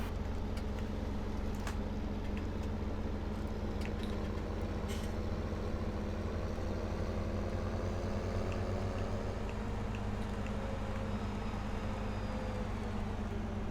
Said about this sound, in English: Oh, just drifted a tractor.